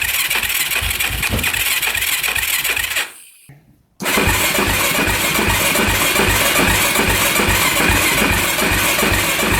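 A special edition race quad's engine runs loud and close, cuts out briefly, then fires back up and holds a steady, rough roar.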